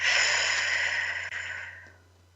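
A deep breath pushed out slowly through the mouth during a guided breathing exercise: one steady, airy exhale that is close and clear, then fades away after about two seconds.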